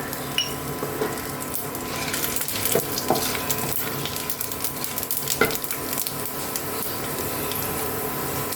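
Nigella seeds, a little fenugreek and two dried chillies broken in half sizzle in hot oil for an ash gourd dish. The frying hiss is dense and close, with scattered sharp crackles and pops throughout.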